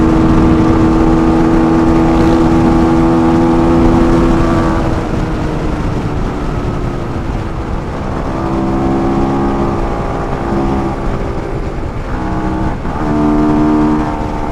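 A Suzuki Raider FI motorcycle races another motorcycle, its engine droning steadily at high revs with shifting pitch and slight dips as gears change, loud and continuous throughout with no talk.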